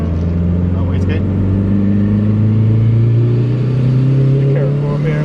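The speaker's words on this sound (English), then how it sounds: "All the turbo noises." Turbocharged 1995 Dodge Neon with a built SOHC engine and TD05 turbo running on the road, a steady droning engine tone rising slightly as it pulls, with a faint whistle and people talking over it inside the car.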